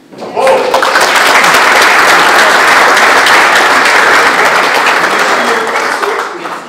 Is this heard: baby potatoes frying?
no